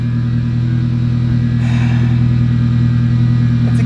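A Mazda Miata engine idles steadily after starting, a constant low rumbling drone held at an even level throughout, close by, with a faint swell partway through.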